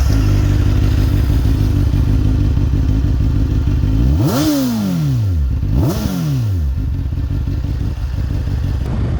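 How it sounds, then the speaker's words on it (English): A Honda CBR600F inline-four motorcycle with an aftermarket Akrapovic exhaust runs loud and close, its engine rising and falling in two sharp revs over a rumbling idle. "I've got an Acro exhaust system on. But I think the sound of the bike is pretty damn awesome."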